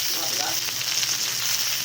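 Spicy pork ribs fry in a pan with a steady, dense sizzle that stays fairly quiet and even for a brief moment, with no voices.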